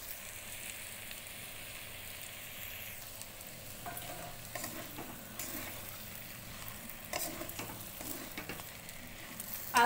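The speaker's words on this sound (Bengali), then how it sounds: "দিয়ে আবারও কষিয়ে নেব।" Prawn malai curry masala with coconut paste being sautéed in a pan: a soft, low sizzle with occasional scraping stirs and light knocks, fairly quiet throughout.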